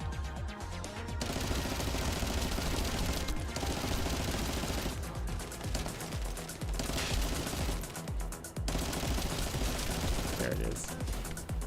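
Gunfire from the video game The First Descendant: dense, loud rapid automatic bursts with brief pauses, sustained over a layer of game sound and occasional talk.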